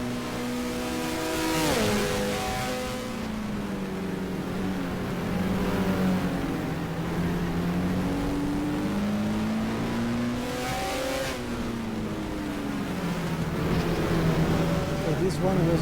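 A BMW GT race car in the GTR2 racing game at Monza drones with a rising and falling engine whine, shifting gears as other cars roar past, with someone talking over it.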